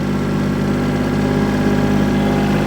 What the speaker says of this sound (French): Donc j'active la prise de force sur le tracteur.